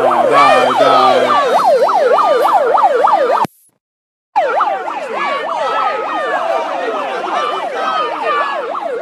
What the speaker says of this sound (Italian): è arrivata l'ambulanza